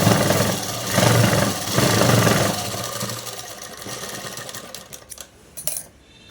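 An electric sewing machine stitches cloth for an open-top dress, a close, loud mechanical whirr in pulsing bursts that settles into lighter running and a few clicks as it stops.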